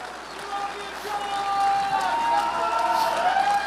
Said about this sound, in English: please, a warm applause for all of our industry nominees right here